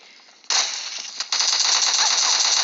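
Loud, sharp bursts of automatic gunfire in PUBG Mobile Lite crackle close by, starting suddenly and continuing in rapid, steady rattling volleys after a brief pause, with no voices over them.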